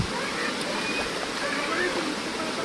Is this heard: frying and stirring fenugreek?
no